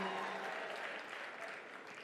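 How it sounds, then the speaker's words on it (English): An audience at the 11th Merck Foundation Africa Asia Luminary conference keeps up faint, distant, continuous applause with no distinct individual claps. "clap more, please. Clap more."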